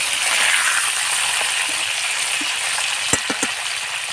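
Fish pieces fry in hot salted oil in a pan, turned over partway. A steady close hiss carries throughout, with a few soft knocks and clicks near the end as the fish is flipped.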